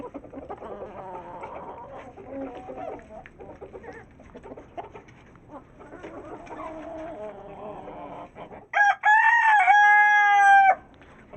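Aseel hens squabble in a farmyard, with scattered clucks and scuffling for most of the stretch before a loud rooster crow rings out near the end.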